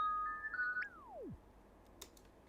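A synthesized bell tone in Logic Pro gets a slow-down fade, so its sustained pitch bends and sinks steeply until it dies out. A soft click follows near the end.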